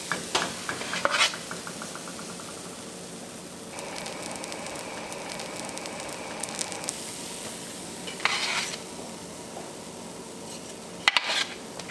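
Bread toast fries in a pan with a steady, faint sizzle, broken by a few brief clatters and scrapes of a utensil against the pan. No one speaks.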